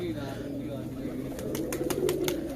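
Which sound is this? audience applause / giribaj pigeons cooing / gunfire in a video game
giribaj pigeons cooing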